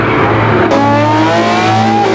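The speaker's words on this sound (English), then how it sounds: "It's not just the engine that makes a Ferrari F50 perform at the limit like this." Ferrari F50 sports car driven hard at the limit, its engine a loud, continuous high-pitched roar with rising revs and steady harmonic whine, close and alone throughout.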